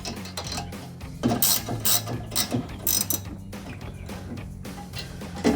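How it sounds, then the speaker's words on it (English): A ratcheting wrench loosens a sway bar end link bolt on an off-road vehicle, clicking in quick bursts of ratchet strokes with brief pauses, close and clear, with no talk. "I like to use a ratcheting wrench."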